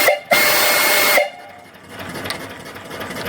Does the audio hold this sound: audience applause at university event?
no